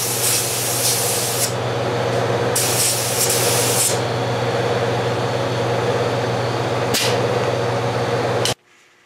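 Spray gun atomizing filler primer onto repaired car body panels in cold conditions, a loud continuous hiss in several long bursts with short gaps, over a steady low hum from a heater or compressor, ending abruptly.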